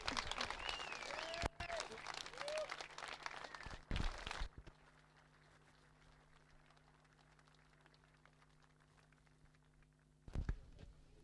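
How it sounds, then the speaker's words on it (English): Crowd applause and cheering at an Irish drift series pro finals podium, loud for the first four seconds, then dropping to a faint murmur before a short burst of noise near the end. "I want to hear a huge round of applause for this driver"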